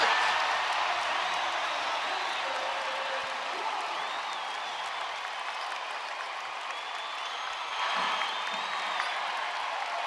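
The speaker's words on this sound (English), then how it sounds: "Crowd coming alive at Gainbridge Fieldhouse." Basketball arena crowd at Gainbridge Fieldhouse during a WNBA game, a steady roar of applause and cheering that holds loud throughout, with scattered whoops rising near the end.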